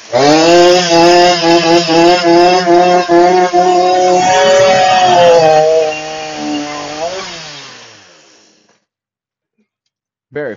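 A chainsaw fitted with a 12-inch carving bar runs loud and close, its engine note wavering and revving for several seconds before winding down and cutting out, followed by silence and a brief sound at the very end.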